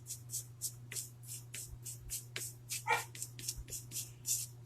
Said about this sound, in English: Oh goodness, my puppy's telling me from the other room.